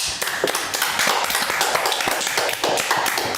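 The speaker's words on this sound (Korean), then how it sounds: "이럴 때 박수 한번 보내드려야죠." Studio audience clapping on a Korean talk program, a dense steady patter of hand claps filling the whole stretch at moderate loudness with no talk over it.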